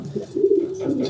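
Close, soft cooing from a tame pigeon, a steady low rolling call that swells in the middle and repeats toward the end, heard alone without voices.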